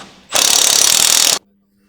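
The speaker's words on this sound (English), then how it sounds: "Using a 21mm deep socket, tighten the bolt into place." A ratchet with a 21mm deep socket spins a bolt tight on a Jeep Wrangler JK steering stabilizer mount, giving a loud, rapid, even run of clicks for about a second before it cuts off.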